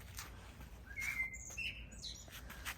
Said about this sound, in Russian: Скворец сидит он на крыше и выводит трели.